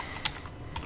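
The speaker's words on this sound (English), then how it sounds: "So if you click in the image, you can begin typing." Typing on a computer keyboard, two distinct close key clicks about half a second apart, quiet over faint room noise.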